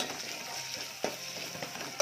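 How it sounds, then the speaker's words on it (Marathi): Vegetables sizzle steadily while frying in a pan as they are stirred, with a couple of sharp scraping clinks standing out clearly against the constant hiss. "तर ही भाजी चांगली हलवते बघा"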